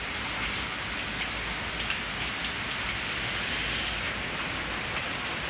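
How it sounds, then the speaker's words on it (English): Heavy rain falls outside in a dense, continuous hiss of drops striking surfaces, steady and fairly close with no voices. "Oh yeah, it's raining too hard."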